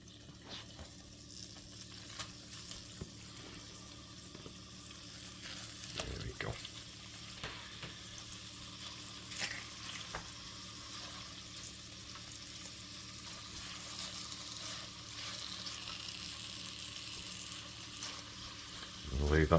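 Lamb frying in a hot pan for a duck and lamb stew, a continuous close sizzle and crackle that builds gradually with occasional clatter and movement, with faint speech briefly present.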